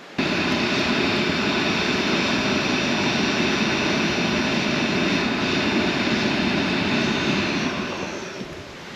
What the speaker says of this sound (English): Put a bit of blower on it, and geez, she gets up and going for a little while